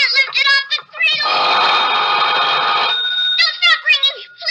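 An old telephone rings in a suspense radio drama: one long, loud, sustained metallic bell ring between stretches of a close voice talking before and after.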